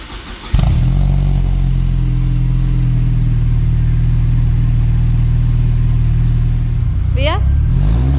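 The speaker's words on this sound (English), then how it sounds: "We'll start with the new exhaust." A 1999 Mercedes SLK 230 Kompressor with a new exhaust starts up and idles loudly with a deep steady drone, then a quick rev near the end.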